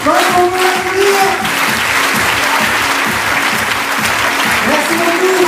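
An audience bursts into loud, dense applause that carries on steadily, with a few cheers and whistles rising over the clapping and some background voices mixed in.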